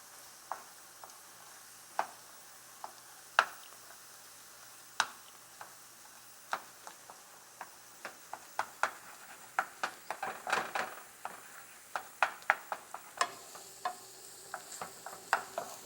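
Shad roe frying in a pan gives off scattered sharp pops and crackles over a faint steady sizzle, sparse at first and then denser, close by with no voices.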